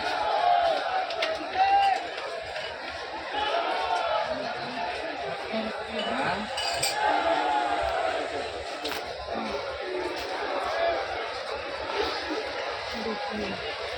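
A large crowd fills Deshnok railway station, a dense, steady murmur of many voices and shuffling people with occasional louder calls, continuous throughout.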